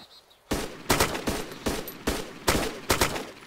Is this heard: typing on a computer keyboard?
no